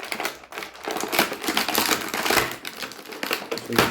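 Plastic packaging is crinkled and pulled away from the legs and arms of a Masters of the Universe Beastman action figure, in dense crackling and rustling bursts close to the mic, with no talk.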